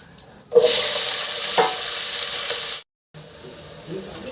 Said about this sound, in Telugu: ఆయిల్ వేడైంది, జీలకర్ర వేస్తున్నాను. ఉల్లిపాయలు అన్నీ ఒకేసారి వేసేస్తున్నాను.